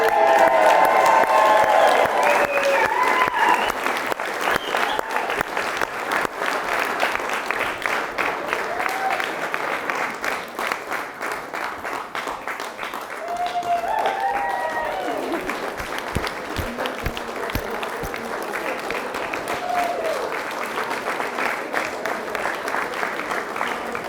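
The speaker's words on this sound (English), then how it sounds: "Philippa and Belle, give them a round of applause." Wedding guests clapping during the speeches, a loud burst of applause that stays full, with cheers and voices rising over it and a second swell midway before it carries on.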